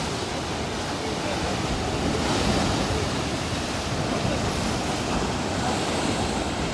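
Waves wash onto Mogren beach in Budva after rain, a steady broadband roar of surf with some wind on the microphone, fairly close and continuous, with no talk.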